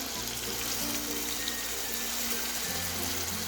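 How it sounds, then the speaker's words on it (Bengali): Water pours steadily into a pan of mustard pomfret curry, a continuous close gushing and splashing that runs without pause. "এখন জল দিয়ে দিচ্ছি"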